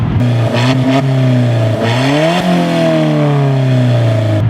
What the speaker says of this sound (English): This car is one of the best sounding 4-cylinder cars there are.